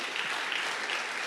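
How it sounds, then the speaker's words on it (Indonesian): Congregation clapping during a church sermon, a steady, even patter of applause from a crowd, moderately loud and continuous with no voices over it. "oke tepuk tangan"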